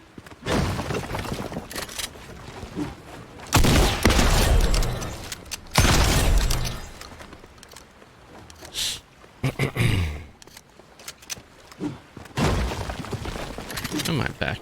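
Shotgun blasts in the Fortnite video game during a wall-edit warmup drill, landing as several loud, sharp bursts with crashing debris spread across the stretch, a few close together and others separated by quieter gaps.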